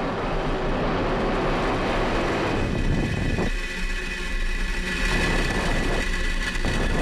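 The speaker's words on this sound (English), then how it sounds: "Engines full power. And liftoff of Starlink." Falcon 9 rocket engines roar at a Starlink liftoff, a loud, continuous broadband rumble that holds steady throughout with no voices over it.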